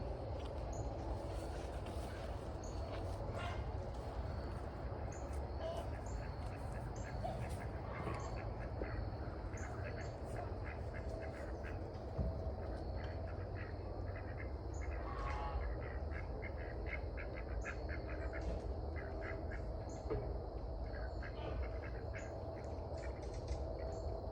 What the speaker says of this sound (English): That's my ducks over here.